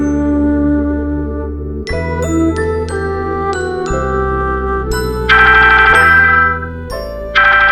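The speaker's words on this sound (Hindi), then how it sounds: "फोन आया है" An incoming call sets a phone ringtone playing loudly and close, a bright chiming melody of repeated bell-like notes with no talking over it.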